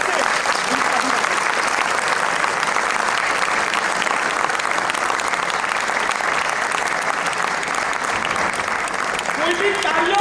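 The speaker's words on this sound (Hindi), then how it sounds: "एक बार तालियों के ताल से" Sustained applause from a large gathering at a Jain devotional yatra, a dense, even roar of clapping holding steady and loud for about ten seconds, with faint voices beneath.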